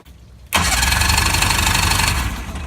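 An old outboard engine on a 1960s fiberglass Arkansas Traveler boat suddenly catches after quiet, popping into a loud, rough, close running roar that holds for about two seconds before easing.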